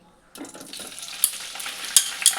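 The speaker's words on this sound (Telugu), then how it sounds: "కడిగి పెట్టుకున్న కాకరకాయ ముక్కలను నూనెలో వేసి వేగనివ్వాలి" Washed bitter gourd pieces drop into hot salted oil in a pan, setting off a sudden sizzle that keeps crackling, with a few sharp spits and utensil scrapes, close and unvoiced.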